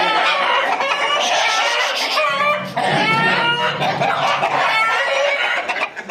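A coop full of chickens and roosters clucks and squawks loudly and continuously, with overlapping calls and crowing close by.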